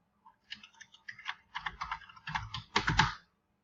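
An email address is tapped out on a computer keyboard in quick bursts of close, crisp key clicks separated by brief pauses, building to a denser cluster before stopping, with no talking.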